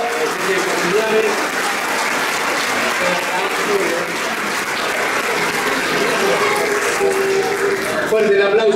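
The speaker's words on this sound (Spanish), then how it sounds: "fuerte el aplauso para Juan Carlos, que tiene familiares" Audience applause at a 50th anniversary celebration of a 1974 championship team, dense sustained clapping from a large crowd, loud and continuous, with an announcer's voice speaking over it.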